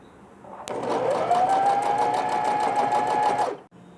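A sewing machine stitching the bottom pocket of a newborn's swaddle through cloth layers with poly fibre sheet between, one continuous whirring run of about three seconds with rapid needle rattle, starting and stopping abruptly.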